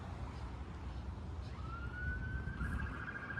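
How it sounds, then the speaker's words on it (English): An ambulance siren responds somewhere along 16th Avenue in Richmond Hill, Ontario, a faint rising wail that emerges partway through over steady street traffic rumble, heard from a distance. "Oh, we got an ambulance responding now."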